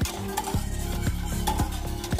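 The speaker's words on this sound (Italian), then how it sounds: "mescolare fino a che la nostra crema non si sarà addensata" A pot of thickening pastry cream stirred repeatedly, giving a steady rhythm of scraping sweeps roughly every half second, close and clear with no talking.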